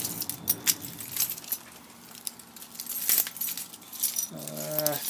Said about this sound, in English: looking through my keys.